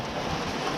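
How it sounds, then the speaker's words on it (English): Steady rain pouring down, a dense continuous hiss of drops on surfaces, close and even throughout. "It's just raining, another shower."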